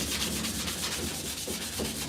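Hand sanding a melamine-topped wooden thrift-store piece makes a continuous, close scratchy rasp with regular back-and-forth strokes, and no one speaks.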